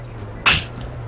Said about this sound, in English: Somebody either sneezed or went shh.